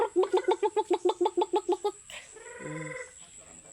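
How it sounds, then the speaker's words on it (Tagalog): Chickens on a rural farm give a quick run of about a dozen evenly spaced, close clucks, then a rising, drawn-out squawking call, loud and clear with no talking. "Naramong mga manok guys oh."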